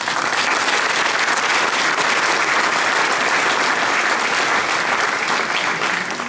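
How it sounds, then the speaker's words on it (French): Audience applause in a hall at a mayor's New Year address, steady and dense throughout, sustained without a break or fade and with no speech over it. "je souhaite que nous les applaudissions"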